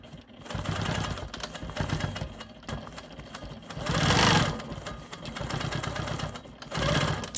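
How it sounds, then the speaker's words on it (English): A Quilt Maker Pro 20 quilting machine stitches straight lines across a quilt block, a dense rapid mechanical whir that rises and falls in speed, with louder faster bursts around the middle and at the end. "all I have to do now are my straight lines here, and I am done with this block"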